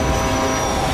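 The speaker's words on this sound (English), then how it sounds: "That was a train." A train rushes past in the video game What Remains of Edith Finch, a brief, dense, loud rumbling roar filling the moment with no talk.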